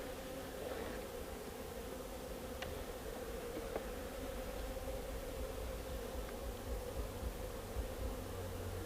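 Flowerpot bees humming steadily inside a peat hive box, a dense continuous drone close by, with a few faint ticks and rustles on top.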